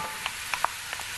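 Onions and bell peppers fry in a pan, a soft steady sizzle broken by a few brief utensil clicks, with no talking.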